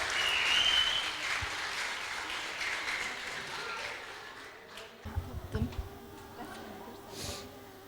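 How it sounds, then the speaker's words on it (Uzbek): Fourth-grade pupils at a school graduation farewell clap together, a moderate, slightly distant patter that fades after a few seconds into quieter room noise with a few faint knocks. "Bir qarsak chalib qo'yamiz o'quvchilar."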